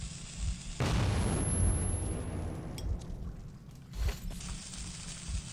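A grenade blasts in the video game Metro 2033 with a sudden loud boom and a rumbling tail, followed by a second smaller burst a few seconds later.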